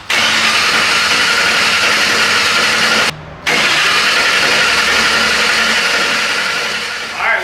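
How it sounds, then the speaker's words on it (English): Cranking a Ford Mustang engine with the fuel pump disconnected to build oil pressure: a loud, close, continuous starter whir that breaks off briefly and then resumes without the engine firing. "we're just building oil pressure, so we disconnected the fuel pump"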